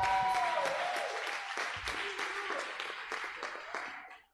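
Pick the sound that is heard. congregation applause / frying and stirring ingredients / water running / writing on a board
congregation applause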